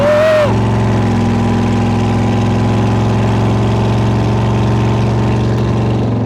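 A Speedway Motors T Bucket hot rod engine runs with straight 9-inch cutouts and no baffles, a loud close steady idle with a deep throbbing rumble after a brief opening whoop of voice.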